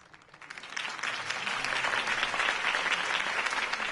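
An audience breaks into applause after a campaign speech by Harvey Dent in a film scene, swelling within a second into sustained, dense clapping from a sizable crowd that holds steady to the end.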